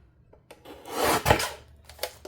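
Cutting a strip of paper craft trim in half, a short rasping, rubbing cut that swells over about a second and then trails off into light handling sounds, close and fairly quiet with no talk.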